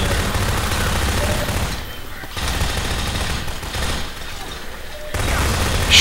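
Sustained bursts of rapid automatic gunfire from the video game RIOT-ACT, loud and dense with short pauses between volleys, mixed with occasional voices.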